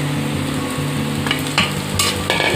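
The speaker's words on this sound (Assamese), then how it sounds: "এইখিনি ভাজি ল'ম মই 1 মিনিটমান।" Spices sizzle and fry in a pan for a banana flower dish, close and steady, with a few sharp stirring scrapes breaking through.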